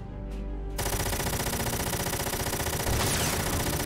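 A dense barrage of rapid machine-gun fire erupts in the mech strategy game Front Mission 4, a loud, continuous rattling stream of shots following a brief quieter lead-in.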